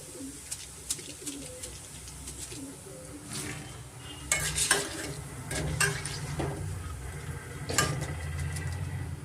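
Flattened rice (avalakki) frying in oil while being stirred, a steady sizzle with scraping stirs and a few louder rustling bursts, close, with birds cooing in the background.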